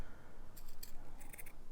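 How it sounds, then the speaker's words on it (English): Scissors snip through a piece of lace in a few quick, close, crisp cuts, with no one speaking. "I've got a piece here, let me just cut it down a bit because it's a bit big"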